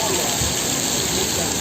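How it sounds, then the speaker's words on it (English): Outdoor rain on a rainy winter day in Israel, a loud, dense wash of falling water with a person speaking over it. "Out here in the rain, just for you guys."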